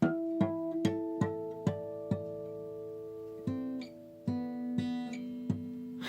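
Clear, bell-like plucked guitar tones ring out one after another, each struck note sustaining and overlapping the next, a gentle chiming sequence with no voices.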